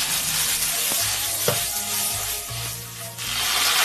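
Loofah slices stir-fried in a wok with a spoonful of ground pepper, giving a steady broadband sizzle with a few scraping stir strokes, close and fairly loud, no talking.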